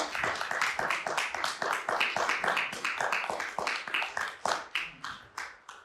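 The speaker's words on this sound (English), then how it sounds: "one huge round of applause for all our participants today" A small audience claps for the participants of a panel on Marxism and anarchism, with rapid steady claps at first that slow and thin toward the end, close and alone without talk.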